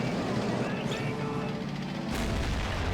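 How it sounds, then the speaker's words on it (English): Artillery fire in the video game Army Men of War, heavy booming blasts and rumbling explosions that fill the space loudly, with a sharp new burst near the end. "There's an artillery piece over here."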